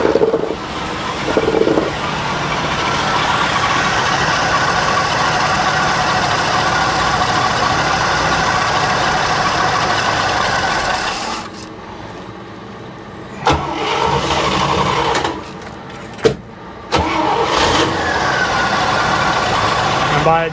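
An International Scout engine idles steadily and loud during carburetor tuning, a continuous rumble that falters and drops out about halfway through, then sputters and catches again in uneven bursts.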